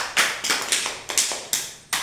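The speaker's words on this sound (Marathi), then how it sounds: "छान. टाळ्या वाजवा." Hands clap in a steady run of about six sharp claps at close range, from children at an Anganwadi preschool activity where they guess flower scents while blindfolded.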